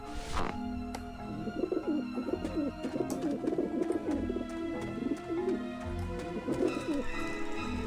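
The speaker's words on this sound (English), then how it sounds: "pigeons!" Pigeons coo repeatedly in a video game's ambient soundscape (Grim Fandango), a steady run of soft, rolling calls over a faint background, with no one talking.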